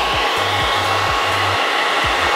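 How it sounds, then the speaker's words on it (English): Blow dryer running continuously while drying a wig, a loud, steady whooshing roar of air with a low motor hum, close and unbroken throughout, with no voices. "So you take your blow dryer, and then you are going to make it like kind of dry"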